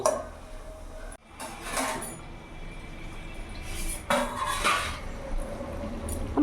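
Hyderabadi chicken stirred in a pot with a metal spoon, with clanking knocks and scraping bursts that come in irregular clusters, close and fairly loud, and no speech.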